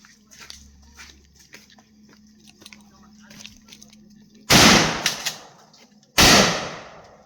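Two loud, close shotgun blasts ring out a little over a second apart at a shooting range target, each with a sharp crack and short decay, following quieter handling noises and faint background sounds.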